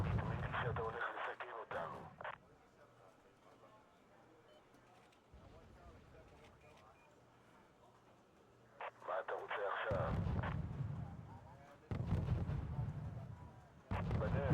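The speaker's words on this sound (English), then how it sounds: "It's a proper heavy arty." Heavy artillery fire in a video game: loud booming blasts burst out at the start and again in the back half, with a quieter rumbling stretch between and talk running over it.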